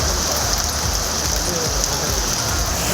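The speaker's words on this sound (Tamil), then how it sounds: "குத்தாலம், கோமல், மங்கைநல்லூர், திருக்கடையூர், தரங்கம்பாடி, செம்மனார்கோவில் உள்ளிட்ட இடங்களில் 1 மணி நேரமாக மழை கொட்டி தீர்த்தது." Heavy rain pours down in a steady, dense hiss across several Tamil Nadu towns, including Kuthalam and Tharangambadi, lasting an hour and loud and continuous throughout, with possible faint voices beneath it.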